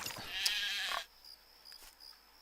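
A sheep in Craft the World gives a short, close bleat that fades out after about a second, followed by quiet game ambience with faint chirping.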